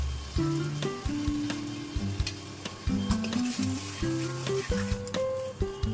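Spice paste fries in a pan with turmeric and salt, giving a continuous close sizzle punctuated by repeated stirring scrapes and light utensil knocks, with no talking.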